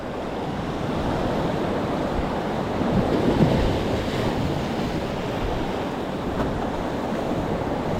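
Ocean surf washes steadily onto the shore at a fishing spot, a continuous broad roar of breaking waves with some wind rumble, swelling slightly midway, with no voices.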